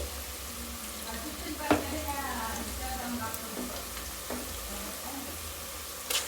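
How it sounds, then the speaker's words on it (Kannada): Ginger garlic paste frying in a pan for mutton biryani, a steady low sizzle running throughout with a few sharp clinks of a spoon against the pot. "ಶುಂಠಿ ಬೆಳ್ಳುಳ್ಳಿ ಪೇಸ್ಟ್ ಹಾಕೊತಾ ಇದ್ದೀನಿ. ಇದು ಹಸಿ ವಾಸನೆ ಹೋಗೋಗಂಟ ಫ್ರೈ ಮಾಡ್ಕೊತೀನಿ"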